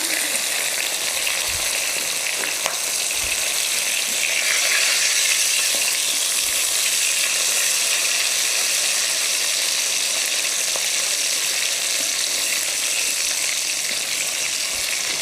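Steady, dense sizzling of food deep frying in hot oil in a wok on an induction hob, continuous and close, with occasional faint clinks of utensils against the pan.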